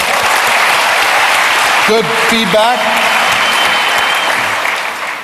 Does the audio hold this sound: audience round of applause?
yes